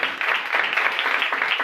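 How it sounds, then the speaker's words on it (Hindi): A church congregation claps loudly and steadily in a Hindi-language worship service, forming a continuous dense wash of applause with no voices heard over it. "जोरदार तालियां।"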